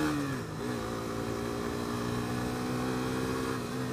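A Suzuki GSX-S125 motorcycle engine pulling uphill, a loud, steady high-pitched drone held close throughout with a slight dip in pitch early on.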